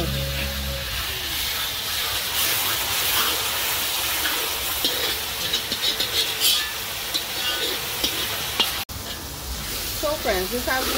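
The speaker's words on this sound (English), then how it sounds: "this has been frying up for like about 10 minutes" Goat curry with ground jeera, curry powder and chili flakes frying in a pot, a steady dense sizzle with occasional stirring scrapes and bubbling pops, close and continuous.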